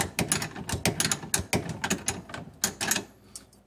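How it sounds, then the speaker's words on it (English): A small box wrench tightens a nut on a Bricklin parking brake assembly, giving a quick series of sharp metallic clicks and ratcheting taps. The taps come close and in uneven bursts, with no voice. "Now the only wrench we can use to tighten this up with is a normal box wrench that's nice and small"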